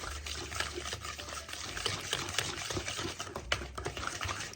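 A whisk stirs buttermilk batter made with soured milk in a bowl, giving quiet, fast, continuous clicking and sloshing strokes up close.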